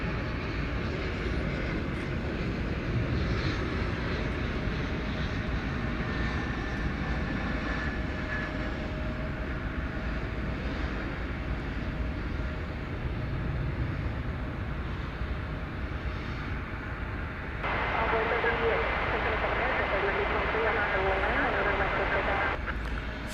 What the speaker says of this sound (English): Got another CRJ coming in from Killeen in Texas.